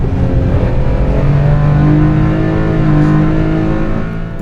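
A Honda Beat's small engine revs hard on a race circuit, a loud, close, sustained high-pitched whine that holds steady before easing slightly at the end.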